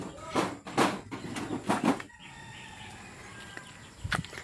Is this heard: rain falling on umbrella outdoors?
no